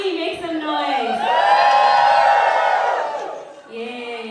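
Guests at a wedding celebration whoop and cheer together, a swelling roar of voices that peaks mid-clip and fades. An announcer's voice is heard before and after it.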